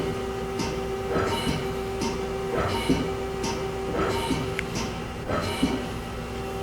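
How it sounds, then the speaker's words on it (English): A Mazak Quick Turn Smart 200 lathe, new in 2010, jogging its turret: a steady machine hum with a tonal whine, broken by a regular series of clunking steps about once a second, with brief speech. "We're going to index the turret. First we'll jog it."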